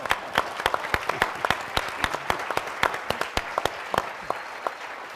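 An audience at the 2010 Economic Patriot Award Dinner roundtable applauds with scattered, crisp individual claps, sparse and uneven, nearby and moderately loud, with no voices.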